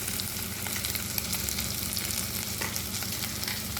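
Food seasoned with turmeric, black pepper and salt sizzles in a pan while it is stirred. A continuous close frying hiss runs under soft scraping strokes, with no voices.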